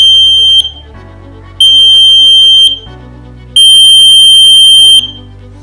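A buzzer alarm on a homemade laser security system sounds in three long, loud, piercing bursts with short gaps between them, close by and with no voices.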